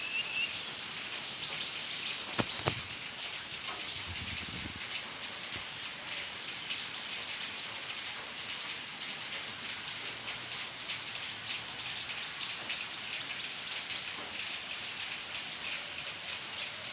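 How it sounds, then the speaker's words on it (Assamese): Steady morning rain falls under dark clouds, a continuous close hiss of drops on surfaces with no talking. "তাতে আকৌ বৰষুণ দি আছে।"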